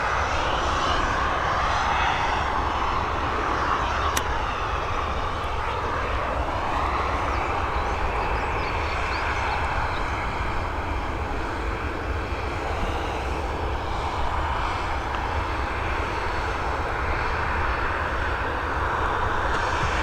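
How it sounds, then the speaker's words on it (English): A Boeing 737 airliner at Dublin Airport, its jet engines giving a steady, loud, continuous roar that holds for the whole stretch with no talk. "Next up, we've got this Boeing 737."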